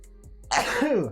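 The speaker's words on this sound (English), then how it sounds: "that sneeze really had some kick on it" One sharp sneeze bursts out close to the microphone after a brief quiet moment, a sudden explosive blast that trails off quickly.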